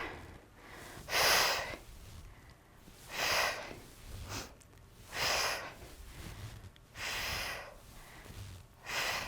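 Rhythmic breathy exhalations during dumbbell forward raises, five or so strong puffs of breath at steady two-second intervals, close and alone with no talk.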